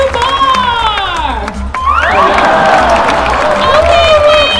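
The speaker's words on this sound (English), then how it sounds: "Let's make some noise and cheer Clyde on." A crowd cheers and applauds for Clyde as he climbs a bamboo bar at a competition, loud and continuous, with shrill whoops and rising shouts throughout.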